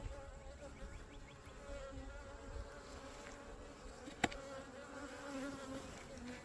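Honey bees buzz close around a face near a hive with a feeder, a steady faint hum with one sharp tap partway through.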